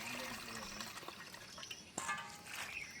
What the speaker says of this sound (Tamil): தண்ணியை விட்டுட்டு நான் ஒரு அரிச்சு பார்க்க போகிறேன்.